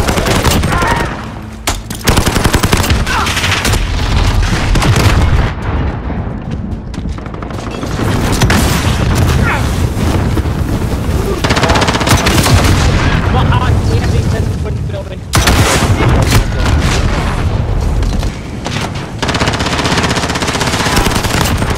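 Dense automatic and rifle gunfire in a Call of Duty: Modern Warfare match, loud sustained bursts with booming impacts and explosions, nearly continuous with brief gaps.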